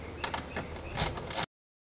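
A ratchet clicks rapidly as long 6mm bolts are backed out of the bottom of a 2001-2005 Ford Explorer front door panel, ending in two louder metallic bursts before it falls silent.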